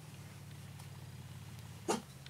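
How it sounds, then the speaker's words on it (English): A dog barks once, a short, loud burst near the end of a steady low background hum, indoors in a home during a crochet lesson. "Now Bailey's going to bark"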